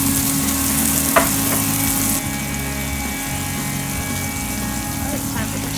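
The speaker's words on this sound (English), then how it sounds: "We're also caramelizing some onions over there." Onions caramelizing in a pan beside burgers cooking give a steady, close frying sizzle with a hum underneath and a brief clink near the start, with no speech over it.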